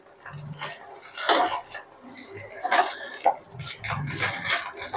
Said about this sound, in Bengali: এবার নাড়াচাড়া করে নেবো একটু